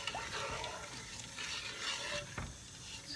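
A spoon scrapes and stirs through melting sugar and chillies in a pot, giving soft, irregular scraping and light clinks over a faint sizzle, fairly quiet and close.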